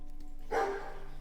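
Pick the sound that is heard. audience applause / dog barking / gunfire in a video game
dog barking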